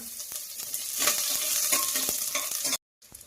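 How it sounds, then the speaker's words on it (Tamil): Mustard seeds, urad dal, fenugreek and curry leaves crackle and sizzle hard in hot oil, close and loud, with scattered pops and stirring. The sound stops sharply near the end and then returns faintly. "எண்ணெய் ஊற்றி கொஞ்சமாக கடுகு உளுத்தம்பருப்பு போட்டுக்கலாம் வெந்தயம் கொஞ்சம் போட்டுக்கலாங்க கருவேப்பிலை கொஞ்சம் போட்டுக்கலாம்"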